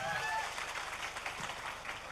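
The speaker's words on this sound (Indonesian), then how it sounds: "Tepuk tangan untuk Mbak Laila." An audience of students at a political campaign event in Jember claps in a dense, fairly distant patter. A voice overlaps the clapping at the start.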